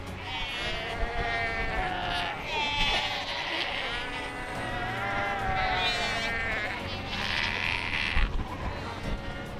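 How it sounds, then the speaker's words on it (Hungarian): Many seals on the Namibian ocean shore call in overlapping bleating, goat-like cries, some near and loud, others farther off, over a constant outdoor background. "a fókák hangja, ami leginkább olyan, mintha a birka és a kecske hangját keresztezték volna"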